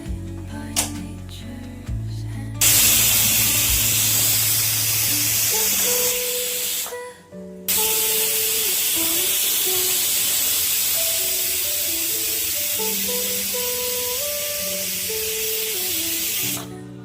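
A pressure cooker cooking goat intestine curry lets off long, loud bursts of hissing steam, broken by a short pause, with faint tonal sounds in the background.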